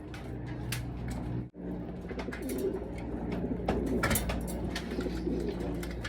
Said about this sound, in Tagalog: bali kompleto na yung mga ibon natin mga kalapatids